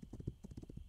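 Horse hooves clip-clop in the frontier video game This Land Is My Land, a quick, rhythmic series of soft hollow thuds at a steady trot, fairly quiet and heard alone.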